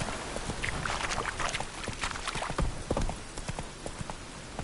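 Roach, the horse in The Witcher 3, gallops with a fast, rolling clip-clop of hooves close up over a breathy rush of wind, with no talking.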